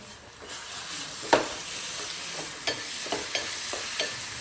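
Ginger, garlic, chili and coriander paste sautéed with cooked onion in a kadhai, a soft continuous sizzle broken by several scraping stirs of a spoon, close and fairly quiet with no talking.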